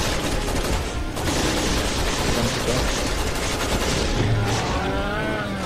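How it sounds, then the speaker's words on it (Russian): Dense, continuous gunfire from the video game Resident Evil 6, with rapid shots blending into a steady loud roar throughout, no voices over it. "Три выстрела я ему сделал."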